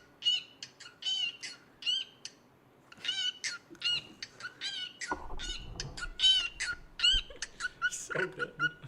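A bird sings a bright, repeating song of chirps and whistled phrases, close and clear, with a louder rhythmic stretch near the end.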